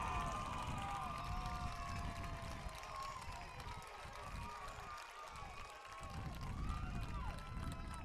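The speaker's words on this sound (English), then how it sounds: "The St. John's crowd goes crazy after a big PK save by James Benestad" The St. John's home crowd at a boys' high school state tournament soccer match roars continuously after a penalty kick save, a dense, distant wash of cheering and shouting with a commentator talking over it.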